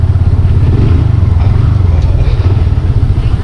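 A motorcycle rides along a road across a dam between Valencia City and Quezon, its engine droning loud and close with a low steady hum, wind and rumble, and no voices over it.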